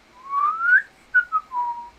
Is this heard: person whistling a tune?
yes